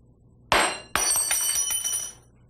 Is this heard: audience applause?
no